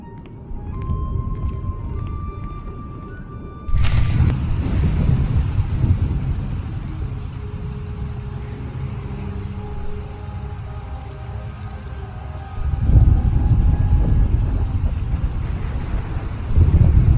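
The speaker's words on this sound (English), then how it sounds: "Storm be damned." A video game storm in KOTET: rain patters steadily while a sharp, loud thunderclap bursts in and heavy rumbles roll back twice later over the continuous downpour.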